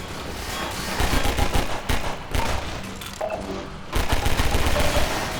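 Half-Life 2 helicopter gunfire rattles in rapid automatic bursts, loud and close, with brief pauses between volleys and game sounds underneath, no talk.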